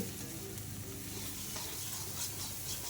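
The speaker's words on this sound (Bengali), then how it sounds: "মানে পেঁয়াজটা প্রায় ভাজা হয়ে গেছে" Onions frying in a pan while being stirred for a mutton curry, a steady close sizzle with scraping stir noises running throughout, no voices.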